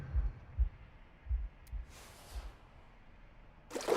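Deep, muffled heartbeat thumps, roughly evenly paced and alone at low volume, then a brief burst of noise at the end.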